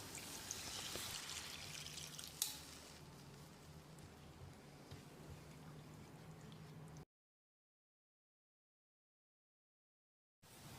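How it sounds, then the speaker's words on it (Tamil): About a cup of water, swished around a mixer jar, is poured into a pan of okra gravy cooking for chapati; a faint, soft pouring and sizzling wash runs for several seconds, then drops to silence before the sound briefly returns. "இப்போ இதில் 1 கப் அளவுக்கு மிக்ஸி ஜார் அலசி தண்ணி சேர்த்துக்கலாம்."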